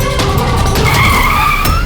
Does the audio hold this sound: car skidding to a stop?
yes